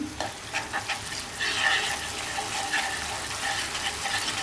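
Ginger and garlic paste frying in a pan for a hilsa fish curry with potato and brinjal makes a bubbling, wet sizzle that swells partway through, with light stirring scrapes over it.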